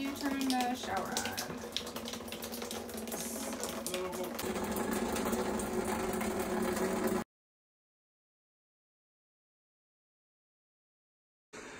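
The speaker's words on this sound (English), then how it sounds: "This is what happens when you turn the shower on." Water runs from the shower inside an old Airstream caravan as a steady hiss with a mechanical buzz under it. It stops abruptly after about seven seconds and is followed by silence.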